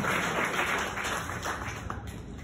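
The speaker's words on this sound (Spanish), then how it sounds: "Un aplauso. Un aplauso." Wedding guests applaud the bride and groom during the blessing ceremony, a short burst of dense, fairly close clapping that fades slightly toward the end.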